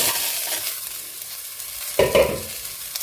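Garlic, fennel seeds and asafoetida sauté in a pan with a constant hissing sizzle. A couple of louder stirring scrapes come in the second half.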